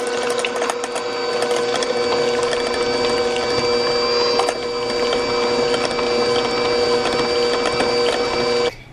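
A filling of cinnamon, maple syrup and key lime juice is mixed with a loud, steady, whining whir that runs unbroken for several seconds, then cuts off abruptly at the end, with no voices.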